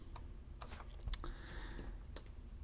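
Typing on a cheap FELiCON knockoff mechanical-style keyboard with red switches: a quick run of soft, close key clacks in an uneven rhythm, with no talking.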